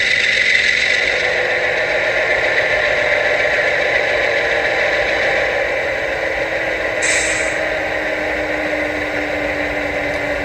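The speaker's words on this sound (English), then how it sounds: "Now I'll take it back down" A Scale Trains ES44AC model locomotive with an upgraded speaker idling, giving a steady low diesel drone with a faint hiss, constant and close with no talk.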